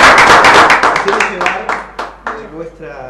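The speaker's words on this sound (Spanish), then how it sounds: "bueno, me parece que para vos y para Germán, este aplauso de todos nosotros" Audience clapping for a strong mother at a Spanish-language television program, loud, dense applause at first that thins into a few separate claps as it fades out.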